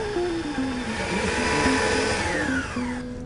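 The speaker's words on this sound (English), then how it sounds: "I'm going to start off our dessert with the Waring tabletop mixer" A Waring tabletop stand mixer creams butter and confectioners' sugar, its motor whirring steadily with a shifting whine that changes pitch in steps, then trails off near the end.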